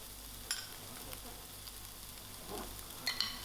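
Carrots fry in a pan before lamb mince goes in for lasagna, a faint steady sizzle with a few light clicks and scrapes of stirring, no talking.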